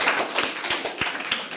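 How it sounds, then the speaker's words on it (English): Audience applause breaks out at an evening gathering celebrating people who completed a program phase, a dense spread of overlapping hand claps with rapid irregular rhythm, moderately loud and fairly close, with no speech over it. "I'd like a huge round of applause for everyone that gets up here tonight."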